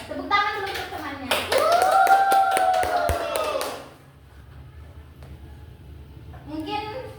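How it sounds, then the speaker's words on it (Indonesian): A classroom of children claps for a classmate in a burst of about two and a half seconds, with children's voices calling out over the clapping and quieter room sound before and after. "Tepuk tangan dulu untuk temannya."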